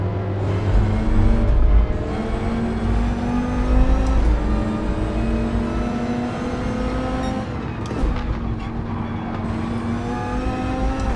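Supercharged Viper GT4 race car in Gran Turismo 7 on the Le Mans circuit, engine droning loud and steady at high revs, pitch rising through the gears with a brief dip around a shift.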